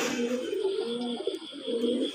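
A sky-blue pigeon nesting on its eggs gives low, throaty cooing and grumbling as the eggs are touched, close and continuous.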